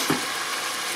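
Pork browns in a pan as a steady, soft sizzle of frying meat, a faint continuous hiss with one small pop near the start and no talking.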